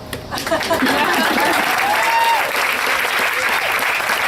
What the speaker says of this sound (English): I want to give you the applause